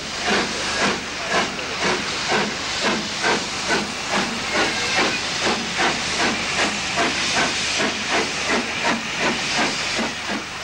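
Gresley V2 steam locomotive, the named St. Peter's School, York, working with rhythmic chuffing hisses of steam, a steady regular beat of loud bursts repeating throughout with no talk.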